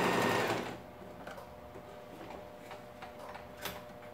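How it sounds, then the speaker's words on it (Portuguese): A sewing machine stitches the lining of a tall toiletry bag with backstitching, opening with a loud burst of running stitches before settling into a steady quieter hum with light ticking, close up. "eu vou costurar só até a marcação que eu deixei aqui do clips"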